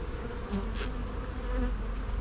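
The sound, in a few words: honey bees buzzing in an open hive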